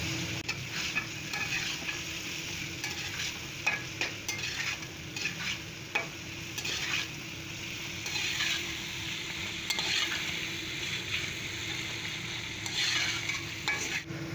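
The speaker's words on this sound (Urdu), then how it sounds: "اب اس کو 2 منٹ کے لیے بھونیں گے۔" Beef pulao masala with red chilli, turmeric and dried coriander fried and stirred in a pan, a steady sizzle with repeated scraping strokes of a spoon against the pan, close and continuous, no talking.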